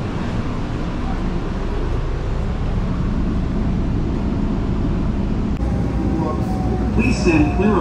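Continuous low rumbling of a Brightline train at a station with steady broadband noise; near the end a brief squeal and shift in the background.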